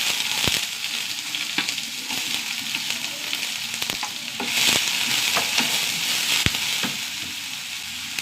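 Onions and green chilies fry in a pan, giving a continuous close sizzle with scraping and stirring clicks from a spoon throughout, and no voices.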